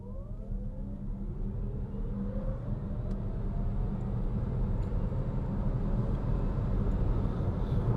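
A 2024 Hyundai Kona Electric accelerates hard in sport mode, a steady low road rumble and rising electric motor whine building continuously from inside the cabin.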